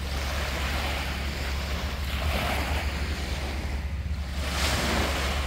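Wind-driven lake waves wash steadily onto a sandy beach on a warm day, a continuous loud roar of surf with heavy wind rumble close to the microphone, swelling slightly near the end, with no voices.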